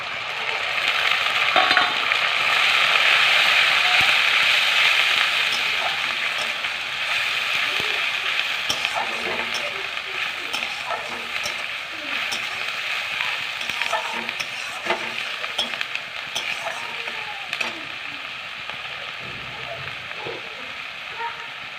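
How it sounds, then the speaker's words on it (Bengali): Onion paste with a bay leaf and a little sugar sizzles steadily in hot oil for a river fish dopiaza, with a loud hiss at first that settles into an even crackle under intermittent spatula scrapes and taps. "পেঁয়াজটা ভালো করে নেড়ে চেড়ে ভেজে নিই"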